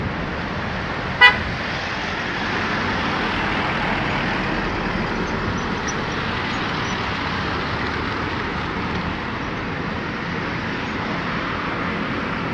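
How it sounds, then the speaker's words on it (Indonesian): Road traffic in Harapan Indah, Bekasi, West Java: motorbikes and cars stream past in a constant roar, with one short, sharp horn toot early on. "Ngeri, banyak motor dan mobil."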